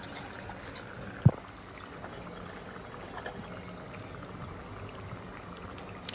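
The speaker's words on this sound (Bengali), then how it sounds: "আমি এখানে পানি দিয়ে দিচ্ছি, গরম পানিতে আনার চেষ্টা করবেন" Water pours into meat cooking in a pot for biryani, a soft steady trickle with one sharp knock early on, heard up close and fairly quiet.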